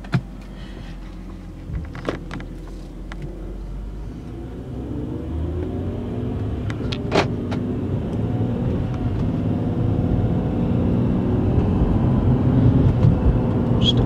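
A 2007 BMW 328xi with 105,000 miles accelerating on the road, its engine rumble building steadily from the cabin over about fourteen seconds, with a few brief clicks and knocks inside.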